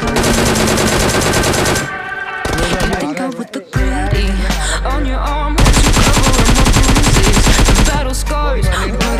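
Gunfire sprays in a battle royale esports tournament match, dense rapid automatic bursts close and loud, broken by a short lull with a sudden quiet dip before the heavy firing resumes. Game sounds mix in with the shots.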